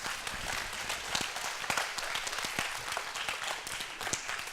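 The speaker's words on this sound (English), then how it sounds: "can you guys give another round of applause to Pastor Dean?" An audience at a church college ministry event claps steadily, a dense, even patter of many hands at moderate volume with no voices on top.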